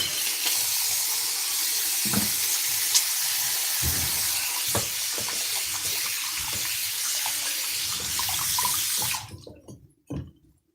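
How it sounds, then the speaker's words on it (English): Tap water runs steadily into a sink while hands are washed, a broad continuous rush broken by splashes and clunks, then cutting off abruptly near the end, followed by a couple of faint knocks. "So let me wash my hands after that."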